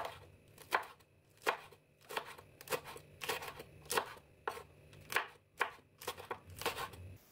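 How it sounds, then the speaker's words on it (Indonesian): A knife slicing curly red chili peppers on a cutting board, with about a dozen crisp, evenly spaced chops heard close up and alone. "5 buah cabai merah keriting, mau diiris menyerong ataupun bulat"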